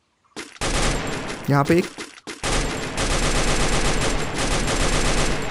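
Gunfire in the Free Fire battle game, loud close bursts of rapid automatic shots with a short pause, while someone talks over the shooting.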